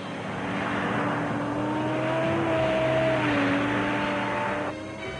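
A Pershing 1a missile transport vehicle driving over rough roads, a steady loud engine drone with a few wavering tonal whines rising and falling before the sound cuts off near the end.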